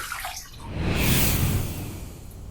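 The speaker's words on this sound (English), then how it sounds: "Let's rinse." Tap water runs over a razor and face during a rinse after a shave with Treet Carbon blades, a steady close splashing that swells in the middle and eases slightly toward the end.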